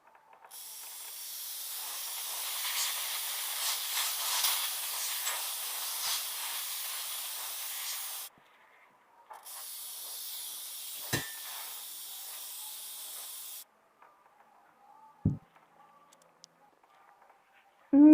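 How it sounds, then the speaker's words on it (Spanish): Compressed air blasts dust off the components inside an opened desktop computer during maintenance: two long, steady hissing bursts, the first about eight seconds and the second about four, followed by near silence with a few faint clicks. "Procedemos a sopletear un poco de los componentes."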